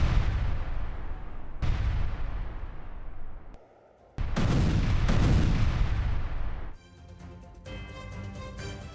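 Missile airstrike explosions boom in heavy, rumbling blasts, one after another, with loud broadband bursts and a crackling, rattling tail toward the end.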